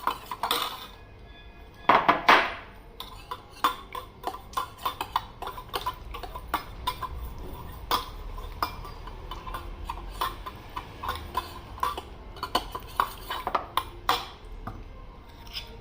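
A spoon mixing honey in a dish: repeated light clinks and scrapes of metal on the dish in an irregular rhythm, close and fairly quiet, with a louder clatter near the start.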